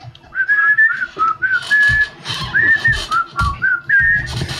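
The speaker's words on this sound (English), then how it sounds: "They all break out into whistling." A group of people whistles a cheerful tune together in a tabletop role-playing session, several warbling melodic lines rising and falling in short phrases, loud and close, with no talking over it.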